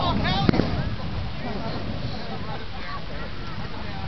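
A homemade bowling ball mortar fires outdoors with one sharp, loud boom, followed by a broadband rumble and wind noise that carries through the rest of the moment while people talk nearby.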